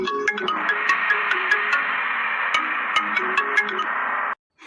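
A phone rings in a home drama scene, a steady electronic ringtone with bright repeating tones running almost the whole time before cutting off abruptly near the end.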